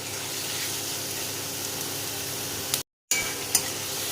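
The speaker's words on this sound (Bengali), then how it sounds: "পেঁয়াজটাকে ভালো করে আমি ভেজে নেব।" Onions sizzle in hot oil in a pan while a chicken curry is being cooked. A continuous, close, fairly soft frying hiss with faint stirring scrapes runs throughout, broken by a brief moment of silence.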